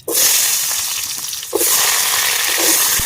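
Potatoes hit hot oil already holding bay leaves and whole cumin, setting off a sudden loud sizzle that stays bright and close, with a second surge of crackling partway through.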